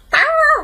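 A person imitates a dog barking: one short, gruff bark-like vocal burst, close and loud, with a growly tone that trails off at the end.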